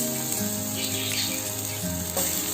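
Ginger and peanuts saute in hot oil for a street-style potato samosa filling, giving a steady, close sizzle and crackle that does not let up.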